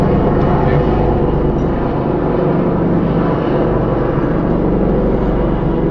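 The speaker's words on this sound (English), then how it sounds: "I'll let the helicopter go by." A helicopter flies over during an indoor interview, a continuous low rumbling drone that stays loud and steady throughout and dominates the background.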